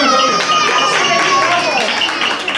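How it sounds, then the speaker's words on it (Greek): Children and adults applaud the winning boys' team at a school event, a short burst of close, bright clapping mixed with chatter and voices throughout. "ένα χειροκρότημα"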